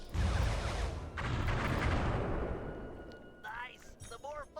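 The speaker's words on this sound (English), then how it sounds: "The more fireworks you prime, the more damage they'll do." Fireworks exploding in the PS2 game Sly 3: Honor Among Thieves, a dense roaring burst of blasts and crackle that swells, briefly dips and rolls on, then tapers off as high whistling effects rise at the end.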